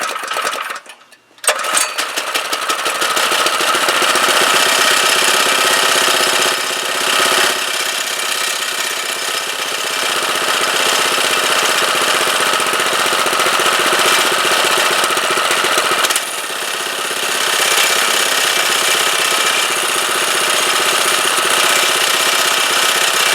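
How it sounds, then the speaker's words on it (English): A small 212 engine runs loud and steady at close range, its harsh, buzzing drone mixed with a rapid metallic rattle from a loose fender, briefly dipping near the start and again later. "Figured out what's that noise. It's our fender"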